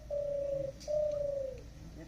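A person imitates a spotted dove's call with two long, steady cooing whistles, the second slightly longer and gently falling, fairly soft and close.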